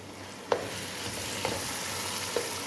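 Boneless beef fries with onions in a pot, giving a constant soft sizzle broken by three evenly spaced scrapes of a spoon stirring the meat.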